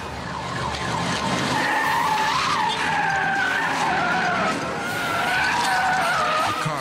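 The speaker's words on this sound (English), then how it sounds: "The car swerves to avoid their Mustang and skids out of control." During a multi-car pileup, a car swerves and skids out of control. Its tires squeal loudly and continuously for several seconds, wavering in pitch over a roaring engine and noisy road rumble.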